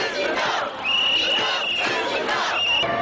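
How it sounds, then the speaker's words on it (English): A large anti-Wall Street protest crowd rallying in the streets of New York, a loud, dense roar of many voices with shouting and cheering swells, heard close and filling the whole stretch. "rallying crowds swamp the streets in the biggest anti-Wall Street demonstration"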